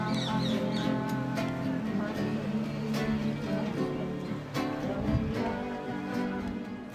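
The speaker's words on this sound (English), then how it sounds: "Around the baptism site, you hear the sound of birds mixed with laughter and song from those visiting the site." Birds chirp and call around a riverside baptism site, scattered tweets and quacks mixed with people's laughter, singing and chatter, the whole scene fairly faint and distant.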